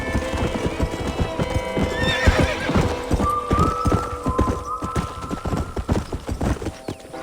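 Steady clip-clop of hooves trots along while a horse neighs and whinnies in the video game Red Dead Redemption, the clatter continuing throughout.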